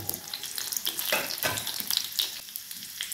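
Chopped garlic, mustard seeds, cumin and curry leaves frying in hot oil for upma, a loud, close crackling sizzle with bursts of spattering and light stirring, no voices.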